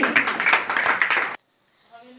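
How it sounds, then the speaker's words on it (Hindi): A group of children claps together in a quick, loud run of hand claps that stops abruptly, followed by quiet and faint sounds. "बच्चों बजाओ ताली"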